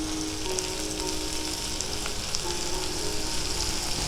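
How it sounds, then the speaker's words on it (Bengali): Onion fries in oil for a Bengali prawn and lotir dom dish, making a continuous close sizzle with small crackling pops. Nobody speaks over it. "পেঁয়াজটা হালকা ভাজা ভাজা হয়ে গেছে।"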